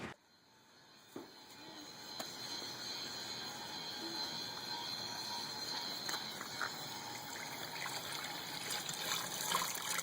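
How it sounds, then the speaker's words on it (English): Water runs steadily into a horse's water trough outdoors, a faint continuous trickle and splash with a few small metallic clicks near the start, heard alone without talk. "because Hammer likes to play with his water, and this is Hammer's water, then I go ahead and just fill it on up"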